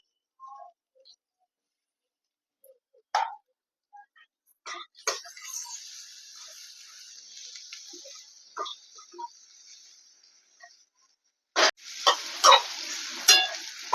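Onion being sautéed in a pan for a rustic green-pea chutney, with scattered stirring clinks and scrapes around a sizzle that rises and fades, then louder bursts of frying near the end.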